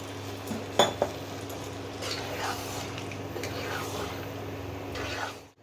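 Metal clinks as a pot lid is handled while chicken cooks, two sharp clanks near the start followed by quieter scraping and faint bubbling under a steady kitchen hum.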